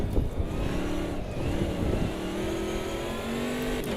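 Race car engine in Automobilista 2, shifted into fourth and held against the rev limiter: a steady, loud, buzzing drone with a stuttering pulse as it bounces off the cutoff, running continuously throughout.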